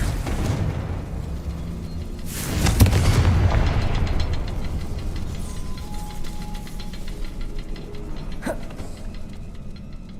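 Explosive spells such as Bombarda and Confringo go off in the video game Hogwarts Legacy, with a heavy boom and rumbling tail early on and a sharper blast crack later, over constant game ambience and no speech.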